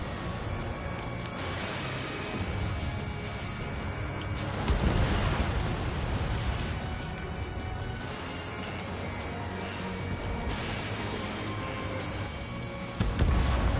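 Heavy artillery and gunfire pound a harbor under attack in the Ace Combat 7 video game, a dense, continuous roar of blasts with louder booms swelling near the middle and at the very end.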